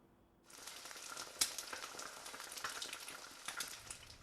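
A hamburger patty sizzles in a pan over a kitchen fire, a steady crackling fry starting abruptly after a quiet moment, with small pops spread throughout, close and moderately quiet.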